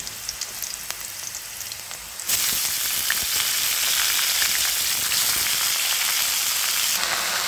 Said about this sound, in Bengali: ভাজাটা হয়ে গেছে, এখন আমি শাকটা দিয়ে দিচ্ছি।